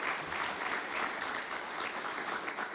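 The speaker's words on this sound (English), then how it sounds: "Another round of applause, please, for our Engineer of the Year." Audience applause fills a fire department awards ceremony, a steady wash of many hands clapping at moderate volume for the whole stretch with no voices over it.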